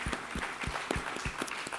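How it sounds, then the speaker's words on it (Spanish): Applause from a church congregation at a worship service, a brief burst of fairly close, steady clapping with many hands blending together and no talk. "Démosle un aplauso al Señor."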